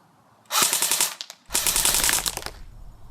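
A Cybergun Beta Spetsnaz AK airsoft rifle fires two loud full-auto bursts close by, a rapid mechanical rattle of shots, the first about a second long and the second longer, with a short pause between them.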